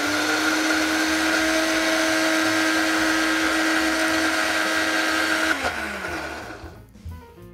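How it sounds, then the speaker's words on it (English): Blender running steadily to purée masala and ingredients for chocolate cannellini bean cupcakes, a loud continuous whir that holds for over five seconds before spinning down and stopping. "Now we wanna blend this up first before we add the rest of our ingredients."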